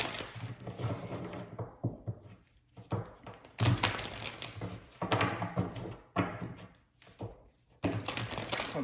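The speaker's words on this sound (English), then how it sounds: "I'm about to shuffle these really quick." Tarot cards are shuffled quickly by hand, making repeated riffling and tapping bursts with short pauses between them, close and moderately loud.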